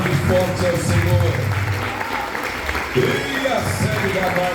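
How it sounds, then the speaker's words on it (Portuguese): Church congregation applauding during a Portuguese-language sermon, a dense crackle of clapping that thins after about two seconds. Speech and musical tones run underneath. "Aplaude forte ao Senhor."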